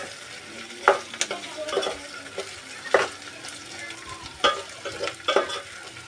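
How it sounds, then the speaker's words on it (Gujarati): Washed bombil fish frying in oil in a pan, a continuous sizzle broken by several spoon scrapes and knocks at an irregular pace, close and clear. "તો એને ઘડીક તેલમાં સડવા દેવાના છે."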